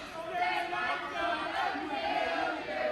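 A wrestling crowd at a tornado tag team match sings a steady chant together, a dense wash of many voices holding a sustained, rhythmic tune at moderate volume throughout.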